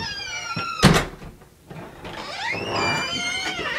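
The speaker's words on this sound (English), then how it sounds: "I'm shutting the door. I'm gonna shut it." A door is shut, giving a single sharp thud followed by a squeaky, scraping rattle, fairly loud and close, with other household noise after it.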